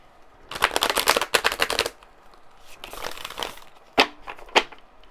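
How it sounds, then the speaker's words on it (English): A deck of tarot cards is shuffled up close, with two bursts of rapid riffling and crackling, then softer rustling and a couple of sharp taps. "Let's keep shuffling."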